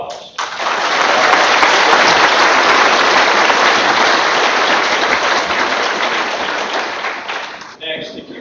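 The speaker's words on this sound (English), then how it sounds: "give them a big round of applause" A big round of applause from the crowd at a Class of 2025 graduation ceremony: dense, loud clapping that swells quickly and holds steady for several seconds before tapering off.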